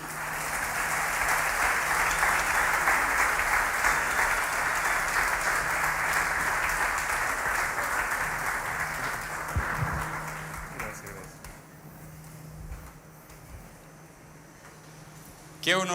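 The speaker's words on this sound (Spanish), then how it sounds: "Yo quiero que recibamos con un fuerte aplauso a Carlos Catari" Strong audience applause greets Carlos Catari at a testimony gathering, holding steady for about ten seconds before dying away into quieter room sound and a brief voice.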